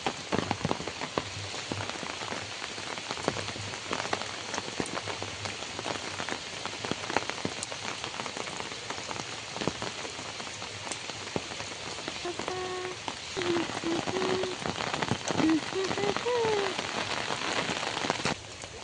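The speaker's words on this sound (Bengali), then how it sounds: "প্রচণ্ড পরিমাণে বৃষ্টি হচ্ছে" Heavy rain pours steadily in a dense, unbroken hiss on surrounding surfaces, with a faint tonal chirp partway through and no talk.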